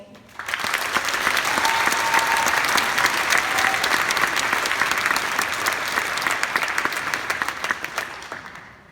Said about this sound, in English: can we please give a round of applause for our amazing graduating class of 2016